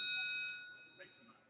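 A voting bell sounds in a House legislative chamber as one steady, ringing electronic tone that fades within half a second, followed by faint murmuring voices.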